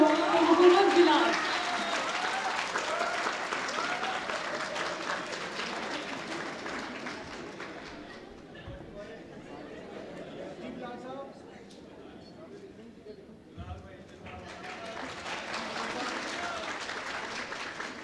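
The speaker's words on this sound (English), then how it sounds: "Please, a big round of applause for Mohammad Bilal" An awards ceremony crowd applauds, moderate clapping at the start that fades as a voice talks over it, then swells again briefly near the end.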